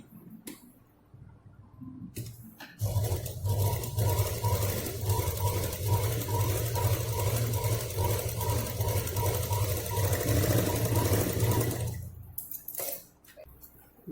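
A sewing machine stitches a handbag in a fast, even mechanical run of about nine seconds, starting and stopping abruptly amid quiet.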